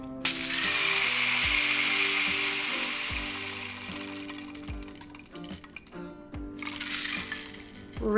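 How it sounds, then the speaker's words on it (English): A rain stick's cascade of small beads or seeds pours and rattles continuously, swelling then fading, with a few light knocks and clicks as the tube is tipped. "Rainmakers are always calming."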